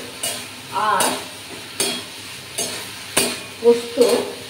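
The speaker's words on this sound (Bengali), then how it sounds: "পোস্ত খুব সুন্দর করে ভাজা ভাজা করে নিই" Poppy seed paste and spiced potatoes sizzle in a wok-style karai while a spoon scrapes and stirs them, giving a soft frying hiss broken by about six rhythmic scraping strokes close by.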